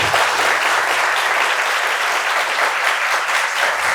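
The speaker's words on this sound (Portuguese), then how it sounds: "Queria pedir mais uma vez uma salva de palmas para o nosso parceiro" Dense, steady applause from a conference audience at a tech talk on agile teams, sustained at full strength for the whole stretch with no voices on top.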